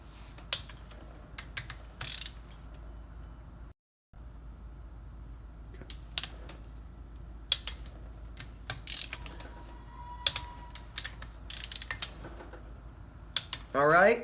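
Torque wrench clicking and ratcheting while Yamaha Banshee cylinder head studs are tightened gently to 20 pounds, sharp mechanical clicks scattered through the clip with a brief silent gap, close up and fairly quiet.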